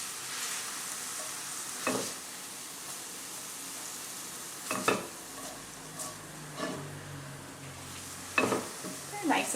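Jalapenos sauteing in a pan for jalapeno popper chicken, a steady hiss of frying with a few louder stirring scrapes and clatters breaking through every couple of seconds.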